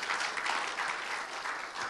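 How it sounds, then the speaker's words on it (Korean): Soft, even applause from an audience welcoming a missionary speaker to the front, a continuous patter of clapping heard at some distance without speech. "우리 다 같이 한번 박수로 환영했으면 좋겠습니다"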